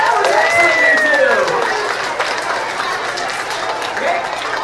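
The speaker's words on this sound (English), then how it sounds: "Give them both a round of applause." Studio audience clapping and cheering for two guests on a live TV show stage, a steady loud crowd wash with whistles that tapers slightly over several seconds.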